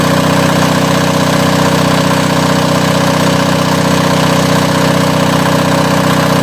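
An unloaded Onan diesel generator runs while warming up, a loud, constant close-up engine rattle and hum with no breaks.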